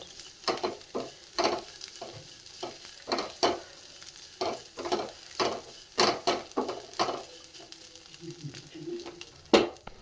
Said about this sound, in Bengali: চলো আমি একটুখানি বাদামও ভেজে নিলাম